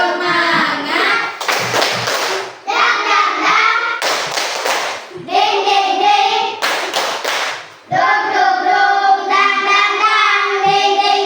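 A school class performs a rhythmic spirit clap, with bursts of loud group clapping in a set pattern, broken up by children chanting together in unison.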